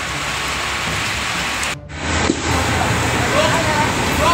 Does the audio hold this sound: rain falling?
yes